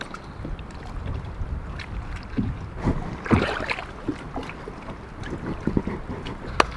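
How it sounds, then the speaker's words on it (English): Strong wind, around 20 mph, buffets the microphone out on an open lake during a fishing trip, a continuous rough roar with gusty bursts and water slaps against a boat, no voices. "It is so windy out here."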